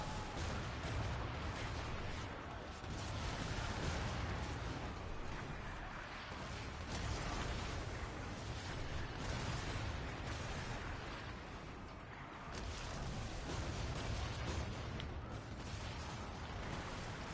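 Demon cannons fire from the port side of a ship in Skull and Bones, a continuous roar of booming blasts and rumbling explosions that barely lets up, dipping briefly once before resuming.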